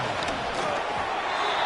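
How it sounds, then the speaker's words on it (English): Stadium crowd in a football video game during a big third-down play, a steady, dense roar of cheering and noise filling the whole clip without clear breaks. "the crowd getting into it as we come up on a big 3rd down."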